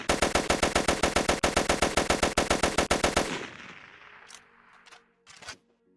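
Rapid automatic gunfire in the virtual reality game Rec Room, a fast even burst of about thirty shots lasting three seconds, then a fading tail and a few faint clicks and knocks.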